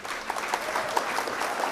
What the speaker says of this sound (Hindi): मैं चाहता हूं कि सदर मोहतरम का आप ज़ोरदार तालियों के साथ इस्तकबाल करें